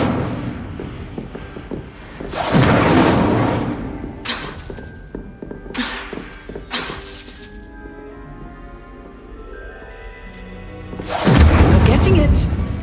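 An Incendio fire spell cast in Hogwarts Legacy: several loud whooshing bursts with crackling, shattering edges, separated by quieter stretches of tonal game ambience, the final burst strongest, with a voice speaking in between.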